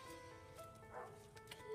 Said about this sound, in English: sorry about that dog in the background